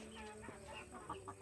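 Chickens cluck in a tropical backyard garden on an off-grid island homestead, with short, soft, irregular clucks at moderate distance over faint background ambience.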